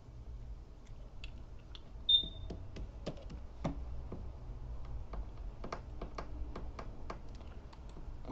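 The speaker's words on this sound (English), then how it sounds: "Then you're going to want to type in the search bar or on the address bar" Someone types on a computer keyboard into a web browser's search or address bar: a quiet run of close, irregular key clicks over a low hum.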